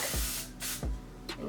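Hair spray hisses out of a can in three short bursts, each a loud, close, breathy spray separated by brief pauses.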